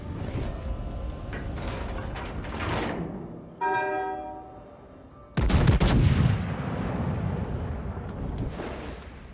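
Naval guns fire in the World of Warships video game: booming salvos with rumbling blasts and mechanical clatter, a loud burst midway followed by sustained roaring.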